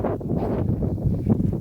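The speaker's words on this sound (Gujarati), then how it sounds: "પવન નો અવાજ આવતો છે અત્યારે બહુ" Strong outdoor wind buffeting a microphone in open farmland, a continuous low rumbling roar with uneven gusts and no other sound.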